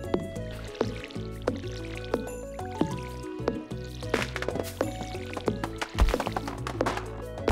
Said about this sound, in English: There, water my seeds.